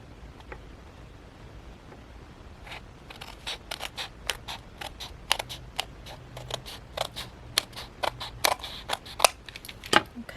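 Scissors snip paper for a shabby chic fall craft journal, a quick run of crisp, separate cuts building after a quiet start, close and fairly soft with no talking.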